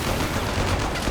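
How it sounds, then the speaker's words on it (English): Dense, continuous gunfire and explosions fill a battle in the Company of Heroes 3 strategy game, a loud unbroken wash of shots with no clear gaps, fitting machine gun fire pressed by US and German forces. "Pressure on the machine gun."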